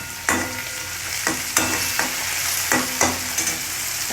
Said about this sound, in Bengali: এখন ভাজছি হচ্ছে ঢ্যাঁড়স